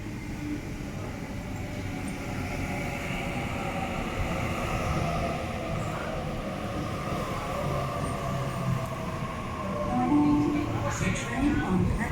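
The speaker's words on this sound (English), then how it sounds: "The train on platform 4 goes to Central." A passenger train sits at a station platform with a steady low rumble and engine hum, swelling slightly near the end. A distant station announcement plays over it.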